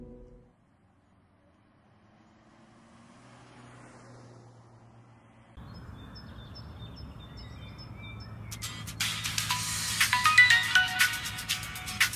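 A phone ringtone plays with repeated electronic tones, faint at first and then joined by a louder, brighter burst of melody toward the end, over a low background hum.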